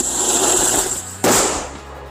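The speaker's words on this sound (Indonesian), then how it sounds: "selanjutnya kita nyalakan mercon Roket Kaget" A Roket Kaget firecracker set off in the ground bursts with a sharp loud bang after a hissing fizz, followed by a brief crackling tail that fades away.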